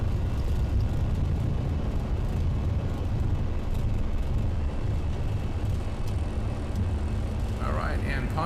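Flight Factor A320 airliner taking off from runway 15 left at Sharm El-Sheikh in X-Plane 11: a steady, loud, broadband engine roar rumbles through the whole takeoff roll, with a brief voice-like sound near the end.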